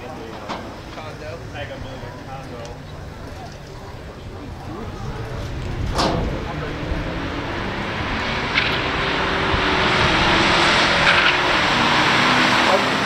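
A 1975 Corvette and a 1972 Torino, both with weak V8 engines, launch down a drag strip, their engines roaring and building in volume as they accelerate, heard from a distance.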